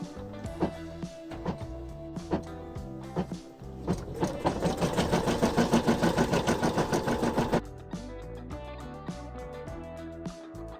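An embroidery machine sews a placement stitch for an in-the-hoop badge, a fast rhythmic mechanical chatter running a few seconds between quieter clicks and needle taps.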